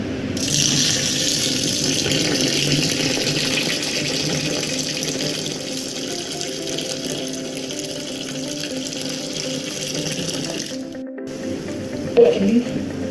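Water gushes steadily into an eco enzyme mixture of molasses and water in a container, a continuous pouring rush lasting several seconds before stopping, followed by faint handling sounds.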